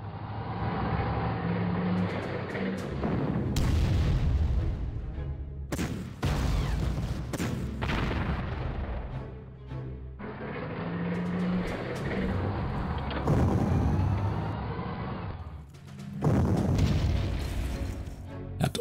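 Artillery bombardment in the strategy game Panzer Corps lands as repeated heavy booming blasts in several bursts, each loud and crashing with rumbling tails, separated by short quiet gaps.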